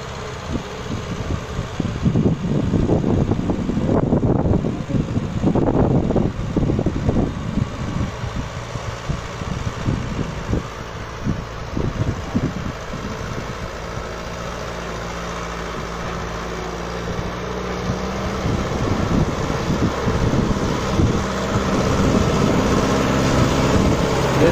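A Kubota 5501 tractor engine runs in first gear during a tractor power demo, a loud steady droning rumble with a whooshing fan-like roar that surges and eases over time, without talking.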